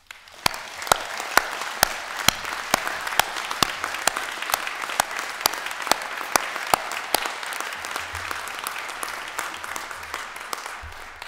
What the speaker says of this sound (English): show our gratitude to the people who have supported you with a round of applause